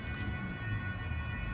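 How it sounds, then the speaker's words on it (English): Emergency sirens wail outdoors beyond the room where orchids are being shown, a steady distant tone with a low rumbling background, continuous through the moment with no talking. "the sirens have finished now"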